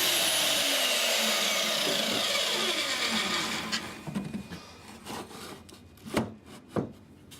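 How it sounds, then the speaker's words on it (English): A chop saw cutting scrap wood pieces roars loudly as it spins up and bites through, then winds down into softer knocks and clatter of wood being handled nearby. "Using a stop block on your chop saw, cut 2 pieces 9 inches long."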